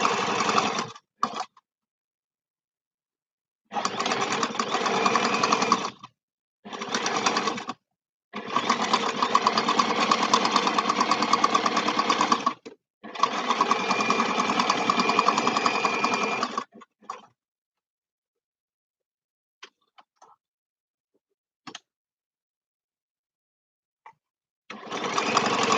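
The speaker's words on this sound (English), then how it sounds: "what I'm actually doing is stitching it 1 centimeters" A sewing machine stitches a small bag in several bursts of steady mechanical whirring, close and clear, separated by silent pauses and a few faint clicks.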